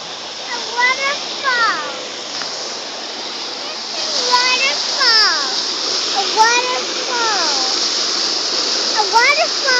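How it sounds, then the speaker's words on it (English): A waterfall at Parrot Jungle Miami gives a steady, rushing wash of falling water that runs the whole time, while someone talks and chatters over it. "Yeah, waterfall. A waterfall."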